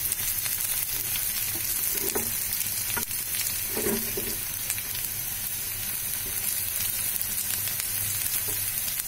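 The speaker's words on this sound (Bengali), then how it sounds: "পেঁয়াজটা একটু নেড়ে নিচ্ছি," Onion fries in oil with a loud, steady sizzle, and a few scraping stirs come through at intervals close by.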